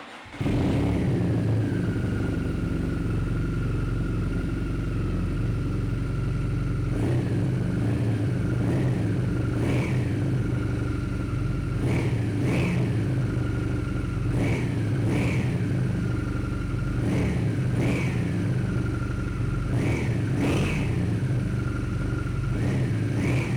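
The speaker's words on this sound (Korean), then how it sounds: "아크라포빅 트윈 머플러의 배기 사운드 한번 들어보고요" A 2017 BMW R nineT motorcycle with factory Akrapovic twin mufflers idles with a steady, deep rumble, then takes about a dozen short, sharp throttle blips spaced a second or two apart, heard up close.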